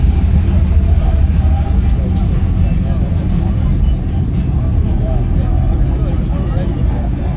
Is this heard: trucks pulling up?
yes